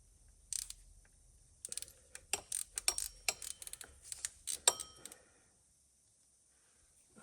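Wrench working a 10mm bolt on a 6.0 Powerstroke engine during a head gasket teardown, a quick run of sharp metallic ratchet clicks and taps, close and fairly quiet, with no talking.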